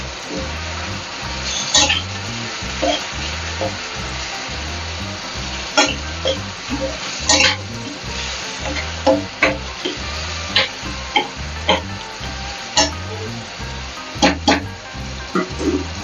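Tomatoes with salt and turmeric fry in a pan, a steady close sizzle broken by frequent scraping stirs of a spoon throughout.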